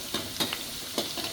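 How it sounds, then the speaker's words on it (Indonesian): Liver and empal fry in a pan, a soft continuous sizzle with a few sharp crackling bursts and stirring scrapes, fairly quiet and close, no talking. "Ini goreng hati teman-teman ya"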